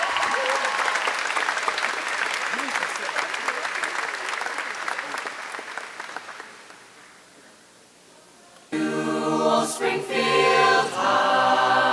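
At a high school graduation ceremony, the crowd gives the baseball team a loud, sustained round of applause that gradually thins and fades, before a choir begins singing.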